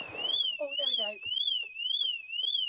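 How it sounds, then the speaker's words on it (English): A home security alarm blares a loud, continuous high-pitched warbling tone that sweeps up and down in a regular cycle, with brief talking and movement underneath at the start. "the alarm's gone off"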